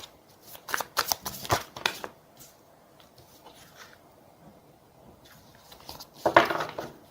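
Tarot cards are shuffled and drawn, crisp riffling flutters in a few close bursts, then a quiet stretch before a final flurry of card snaps.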